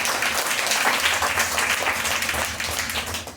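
Church congregation clapping loudly during a sermon, a thick wash of many hands applauding nearby, holding strong before tapering slightly at the end.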